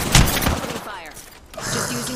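Bursts of gunfire crack in a shooter video game, a dense volley at the start followed by scattered shots and debris, with a player's voice talking over it.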